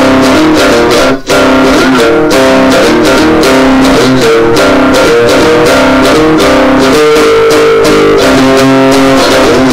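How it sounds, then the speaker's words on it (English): Cigar box guitar with a homemade transformer coil pickup and a piezo pickup both turned fully up into a Behringer Vintager amp, loud continuous strumming and sliding notes that blend deep lows with added highs, one brief pause near the start. "So here's both of them all the way up"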